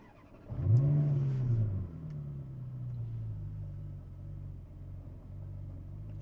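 A Ferrari is started with the key and the engine catches with a sharp rev, then settles into a deep, steady idle rumble, close and alone without talk.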